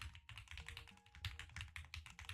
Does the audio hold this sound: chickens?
no